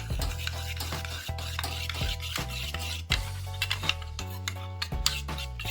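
Powdered Amul milk being stirred into a small amount of heated milk for a milk chitoi pitha batter, with a steady run of soft scraping and swishing strokes against the bowl, close up and continuous, no talking.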